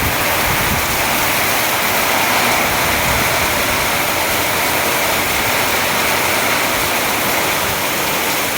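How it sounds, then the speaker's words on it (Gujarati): Heavy rainwater rushes rapidly along a street in a Porbandar housing society during a downpour, a loud, dense and unbroken roar of water heard from under a shed. "જોઈ લો વરસાદનું પાણી કેવું ઝડપથી વહી રહ્યું છે."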